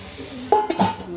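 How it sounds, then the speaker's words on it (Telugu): Vegetable pieces frying in oil in a pan for veg biryani, a brief close sizzle with a sharp clink of a spoon stirring against the pan. "ముక్కలు వేగుతున్నాయి, చూసారా?"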